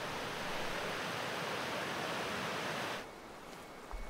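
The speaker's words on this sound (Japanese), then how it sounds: "十和田湖から流れ出る奥入瀬川は、岩や木々の間を縫うように流れ、滝や清流を形成しながら、ねのくちから焼山まで約14キロメートル続いています。" The Oirase mountain stream, flowing from Lake Towada through rocks and trees with waterfalls, gives a dense, steady rushing roar that suddenly drops to a softer flow near the end.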